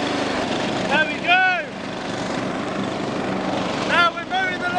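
Ride-on lawn mower tractor cutting a garden lawn, a steady close engine drone running throughout, with a voice speaking excitedly over it at two points.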